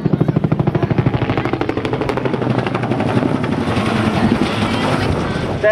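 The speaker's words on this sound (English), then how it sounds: "There you hear that distinctive whop whop whop of the rotor of the Huey." A Huey helicopter at the Portrush air show gives off a steady, rapid whop-whop of its rotor blades, loud and continuous, with wind rumble and no talk.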